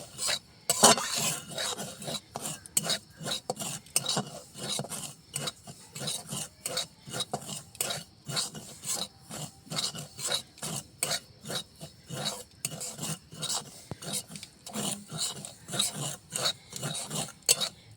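A spoon scrapes and stirs semolina dry-roasting in a pan without oil or ghee, rhythmic rasping strokes repeating steadily throughout, close and moderately loud.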